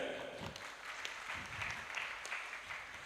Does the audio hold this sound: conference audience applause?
yes